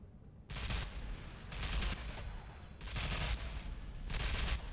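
Bursts of automatic gunfire in the shooter Ghost Recon Phantoms, several separate rapid volleys of shots, fairly close and steady, broken by brief gaps.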